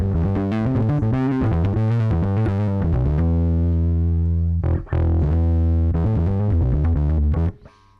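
Bass guitar played through a Tony Hammer drive pedal: a loud, gritty, distorted line of plucked notes that settles into a long sustained drone, breaks off briefly, resumes, then cuts out near the end.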